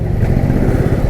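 Road traffic on a busy route near Bhandardara Dam, a loud close rumble of engines, motorcycle-like, steady and without talk.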